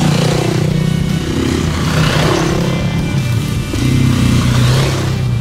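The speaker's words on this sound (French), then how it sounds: "C'est une moto ancienne, quoi." An old, heavy motorcycle ridden on an off-road enduro trail, its engine droning loud and close with steady throttle and slight dips in revs throughout.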